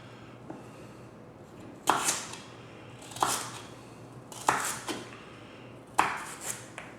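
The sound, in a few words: chopping celery sticks with a knife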